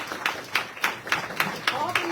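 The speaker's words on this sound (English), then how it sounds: "Stand up for a second and let's clap the people." An audience at an outdoor event celebrating low-carbon construction materials claps for workers in a steady, even rhythm of about eight sharp claps, moderately close.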